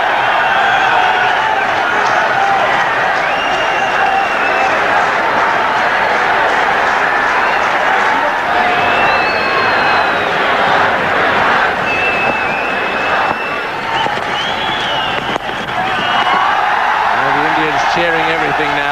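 Roaring crowd noise fills a cricket stadium during an Australia versus India one-day match in Sharjah, loud and continuous cheering and clapping with a commentator talking over it throughout.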